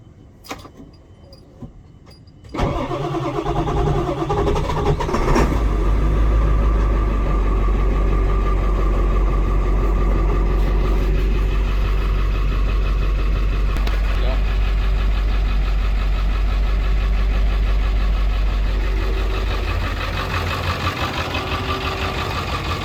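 A 2001 Ford Super Duty F450 4x4 diesel starts after a few clicks and settles into a loud, rough, uneven idle with a loping beat from a lazy injector, running steadily close by.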